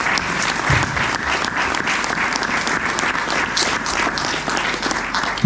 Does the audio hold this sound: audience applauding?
yes